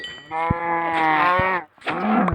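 A cow lows close by in one long, loud, drawn-out moo. After a short break a second moo begins, with no talk over it.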